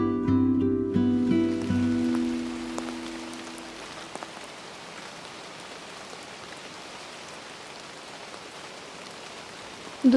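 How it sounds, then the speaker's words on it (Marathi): Light morning rain falling steadily near a lodging close to Marleshwar, a soft continuous patter on surfaces after a brief low hum at the start, even and moderately quiet throughout. "दुसऱ्या दिवशी सकाळी हलका हलका पाऊस सुरू होता."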